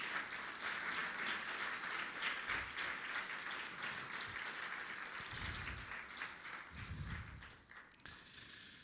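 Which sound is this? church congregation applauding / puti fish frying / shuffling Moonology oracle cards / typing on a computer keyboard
church congregation applauding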